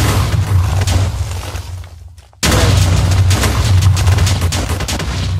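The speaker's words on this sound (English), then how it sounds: "Mine's still blowing up. I can hear the explosions" TNT blasts in the Minecraft video game boom continuously in a dense, loud rumbling barrage, briefly dropping to near silence around the midpoint before the explosions resume at full force with no voices.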